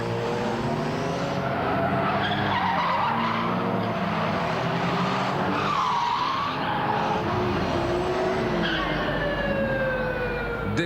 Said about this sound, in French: Autour du parking, certains se défoulent au volant de leur puissante voiture.